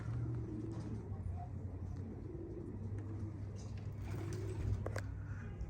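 Racing pigeons arriving at a loft after a race coo softly nearby over a steady low engine hum, with faint voices murmuring in the background.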